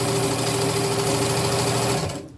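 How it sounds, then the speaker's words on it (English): An old, freshly oiled but noisy sewing machine stitches down the sleeve of an upcycled tunic, a loud, steady mechanical whir that winds down and stops near the end. "Now we're just going to sew this down."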